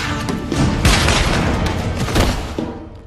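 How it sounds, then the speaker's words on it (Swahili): Gunfire from a dubbed action movie: a dense, loud fusillade of shots and booming impacts fills the whole stretch, with heavier bursts near the middle and toward the end. "Risasi kama zote."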